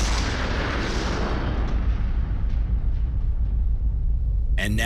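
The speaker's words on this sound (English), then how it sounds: "Let's watch that explosion in slow motion." Slowed-down tannerite explosion set off by rifle shots, a long deep rumbling roar that fades slowly, followed by a sudden sharp burst at the end.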